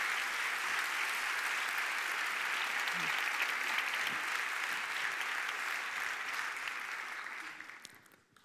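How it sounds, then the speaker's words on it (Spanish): Steady, dense audience applause for a speaker at an architecture event fills the room, holding even for several seconds before fading out at the end. "Un gran aplauso para ella."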